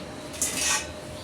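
A cooking pot set down on a home stove before making maskalai dal with pangas fish head: a brief metallic clunk and scrape of cookware, close and fairly soft, with no talking.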